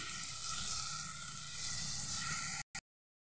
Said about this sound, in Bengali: দিয়ে আমি গ্যাসটাকে আস্তে দিয়ে এটা ভালোভাবে কড়াইয়ে ভেজে নেব।